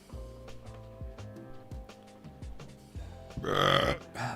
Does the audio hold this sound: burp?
yes